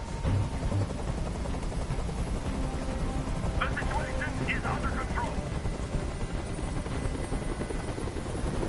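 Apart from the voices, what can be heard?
helicopter hovering overhead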